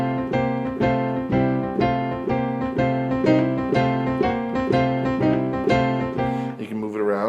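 Boogie-blues piano groove, the left hand holding long bass notes while the right hand plays a steady, repeating rhythmic figure, clear and close, ending on a brief flourish.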